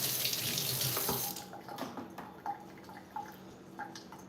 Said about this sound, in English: Right now I'm just draining the containers and I'm gonna pat them dry.